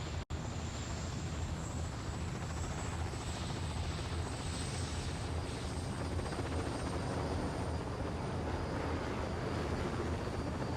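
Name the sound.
helicopter flying in Destroy All Humans video game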